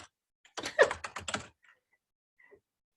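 A short burst of typing on a computer keyboard, about a second of quick, crisp keystrokes up close, followed by a few isolated taps in near silence.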